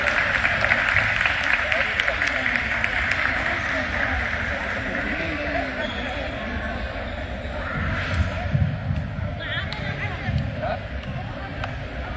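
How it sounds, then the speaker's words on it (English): Audience applause at a Tigray community gathering in Dallas, a broad steady wash of clapping across the whole stretch, mixed with crowd babble and low rumble, with a voice speaking under it near the end. "Please, if you could, give us applause for Ridra"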